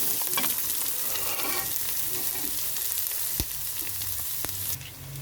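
Chopped onions fry in a hot pan with chicken, giving a steady loud sizzle with scraping stir sounds and a few sharp clicks of a utensil.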